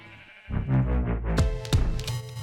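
Several sheep bleat in a Minecraft world, a quiet lead-in giving way to a run of loud, close, quavering bleats that overlap and repeat for about two seconds, with no talking.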